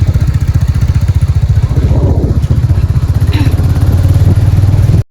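A motorcycle engine putters steadily and loudly throughout, a close, continuous rhythmic thrum with faint clatter above it.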